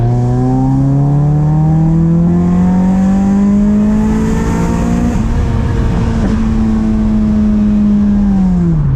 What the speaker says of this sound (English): I wanted to test out launch control to finish the video off